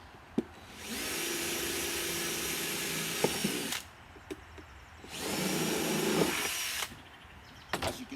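Power drill boring holes into a plastic container, two bursts of high whirring a few seconds long separated by a quiet pause, with clicks and handling knocks between them.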